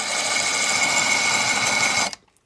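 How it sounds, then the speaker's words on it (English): A drill press bores holes in a part during a brake job on a Suzuki SX4, a steady loud whirring with bright high-pitched grinding that runs for about two seconds, then stops abruptly, leaving faint small knocks. "So then we gonna drill our holes over on the drill press"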